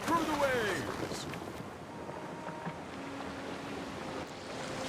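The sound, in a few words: ocean waves from the video game Anno 117: Pax Romana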